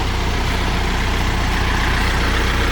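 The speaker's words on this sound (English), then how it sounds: "Now I'll wait till you're done with the tractor" A tractor engine runs steadily at idle on a rural property during landscaping with rock, a continuous low rumble with a regular pulsing beat, close and alone without voices.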